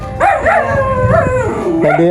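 A dog named Chuchu, tied up while being bathed, howls and yips in a rising and falling wail, loud and close, with no talking over it.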